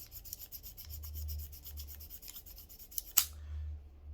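The oiled hammer of a Western Six 22LR revolver is worked back and forth, giving soft, rhythmic metallic scraping and clicking, faint and close, with one sharper click near the end.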